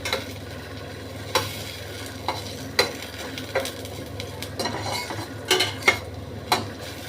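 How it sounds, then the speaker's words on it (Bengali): Onions softening in a pan over low heat for a raw mango curry, a spoon stirring with soft scrapes and light taps over a faint background sizzle, quiet and close, no talking. "আঁচটা কম করে এরমভাবে নাড়ছি। এটা একটু হোক, এটা একটু নরম হবে।"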